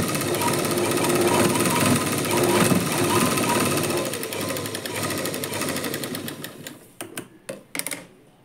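Sewing machine stitching a lining blouse, a rapid needle clatter running steadily for several seconds and then stopping, followed by a few short bursts of handling or tapping near the end, close with no talk.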